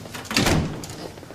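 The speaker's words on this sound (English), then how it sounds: "Close the door, please" An indoor door is pushed shut in a police station office, making a brief muffled thud and rush of air up close, with no voices.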